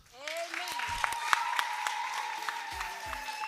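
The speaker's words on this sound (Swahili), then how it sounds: "Jamani, makofi ya kutosha." Audience applause at a church gathering, clapping steady and moderately loud across the whole moment, with a few sharper claps standing out and faint background voices.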